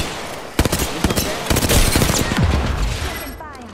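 Dense gunfire in the battle royale game Apex Legends: a loud, close fusillade of rapid automatic shots with sharp single cracks layered over continuous rumbling action.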